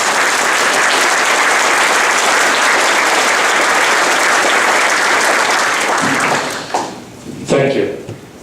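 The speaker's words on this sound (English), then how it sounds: "give these fine student athletes a well-deserved round of applause" Audience applause at a county sports hall of fame ceremony honoring student athletes, loud and sustained for about six seconds before tapering into scattered claps.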